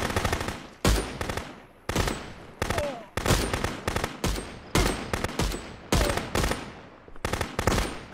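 Loud bursts of rapid gunfire ring out in the Contraband Police video game, repeating roughly every second in short volleys, with little talk.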